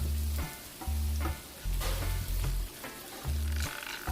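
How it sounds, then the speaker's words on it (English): Salmon and walnuts sizzle loudly in a hot pan, with steady frying hiss broken by several short bursts of quick stirring and scraping. "so you just add our walnut at the very last minute. You're gonna do a quick little stir,"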